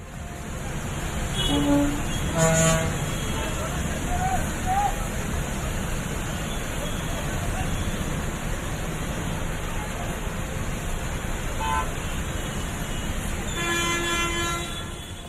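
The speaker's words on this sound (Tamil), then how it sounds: "தொடர் விடுமுறை காரணமாக பலர் சொந்த ஊர் புறப்பட்டுச் சென்றதாலும் போக்குவரத்து நெரிசல் காணப்பட்டது" Dense, steady traffic roar with several car horns honking: a few short blasts early on and another cluster near the end, close by.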